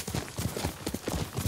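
A horse trots along in Ghost of Tsushima Director's Cut, its hooves clip-clopping in a quick, steady, close rhythm across the whole stretch.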